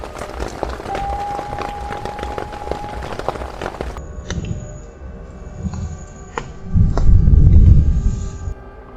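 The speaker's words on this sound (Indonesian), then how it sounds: "hujannya deras, teman-teman" Heavy rain at an island campsite, a dense, loud roar of downpour with scattered sharp patters, fading into a quieter drizzle partway through before a strong gusty rumble of wind and rain swells near the end.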